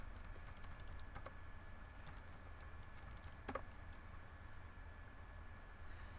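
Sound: typing a new password on a computer keyboard

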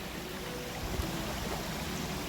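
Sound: mountain stream water flowing

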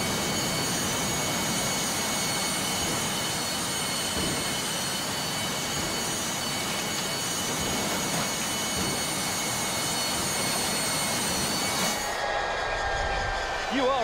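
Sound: large engine running loudly

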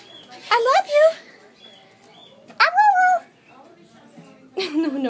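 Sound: husky puppy vocalizing

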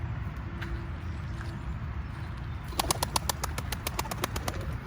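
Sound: pigeons being chased, flapping wings

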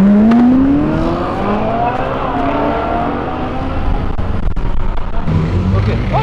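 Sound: Subaru car accelerating hard on avenue

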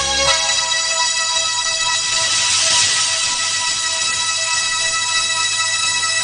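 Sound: phone ringing

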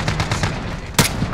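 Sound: gunshots in a shooter video game

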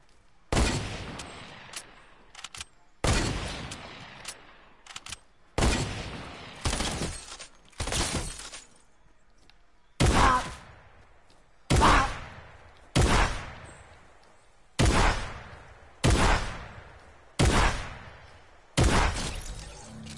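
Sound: hunter rifle gunfire in a video game

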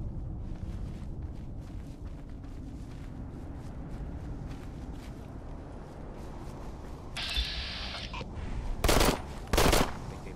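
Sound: gunfire in a video game

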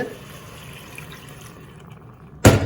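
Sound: pouring water into chicken curry

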